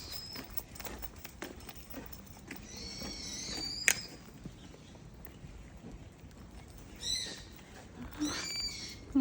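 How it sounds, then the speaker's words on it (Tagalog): Small birds chirp in short, faint bursts in a very quiet autumn setting in Japan, with soft footsteps and light background rustle between the calls. "Kumakanta ibon."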